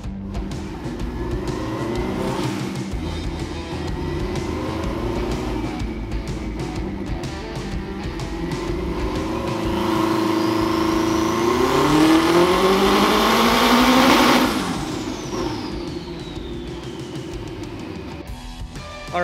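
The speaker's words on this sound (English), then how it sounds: "we're actually going to do a baseline dyno run so that we can see exactly how much power it's making on the current ECU configuration" A race car set up for Pikes Peak, about 300 wheel horsepower on wastegate pressure, roars on a chassis dyno, its engine climbing steadily to a loud peak near the end before cutting back to a lower idle drone.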